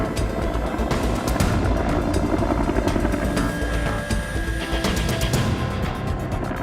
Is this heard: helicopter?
yes